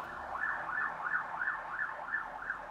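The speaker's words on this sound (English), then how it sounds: "It's a loud ambulance." An ambulance siren wails loudly outside the room, its rising and falling tone repeating steadily about every third of a second and sounding alone without talk.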